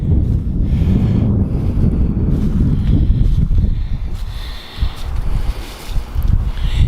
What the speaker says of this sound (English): hold on, it's really windy.